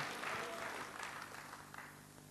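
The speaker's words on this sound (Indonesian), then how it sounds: "Tepuk tangan yang meriah buat Yesus." A church congregation applauds enthusiastically in praise of Jesus. The clapping is brief and steady and sounds somewhat distant and soft, with a faint hum underneath.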